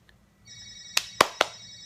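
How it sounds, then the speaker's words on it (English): A telephone rings indoors: a steady electronic tone, then three sharp, bright rings in quick succession, fairly close and loud, with no voices. "I gotta go answer that phone"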